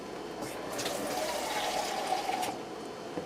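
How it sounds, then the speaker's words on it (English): Water pours into a glass jar that held crushed tomatoes, a close gurgling stream rising slightly in pitch as it fills over a few seconds, with no talking over it. "I'm going to take my jar that I had crushed tomatoes in and put a little water in here."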